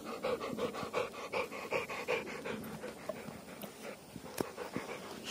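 Dog panting close by, a steady rapid rhythm of quick breaths running through the whole clip, fairly quiet, with a faint whimper-like tone mixed in and no talking.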